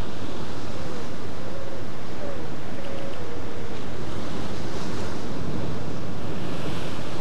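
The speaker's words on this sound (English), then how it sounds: "So the tide is coming up and it's rushing in almost to my feet now." Ocean surf surging in on a rising tide, a loud continuous wash of breaking waves with wind buffeting the microphone, no voices.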